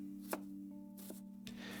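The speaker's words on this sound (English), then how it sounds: "We hear dull chopping noises as we ascend and see the cook preparing something green and savory smelling." A cook chops food in a kitchen: a few dull, separate knife strikes land at irregular moments over a soft steady background hum, fairly quiet and without voices.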